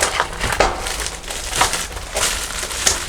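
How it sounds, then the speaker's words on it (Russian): A knife sawing through crusty bread, repeated crunchy strokes in a steady back-and-forth rhythm, close up and fairly loud. "Нарезать хлеба."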